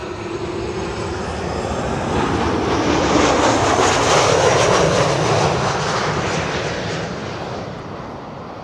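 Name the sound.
KLM Boeing 737-700 arriving at Schiphol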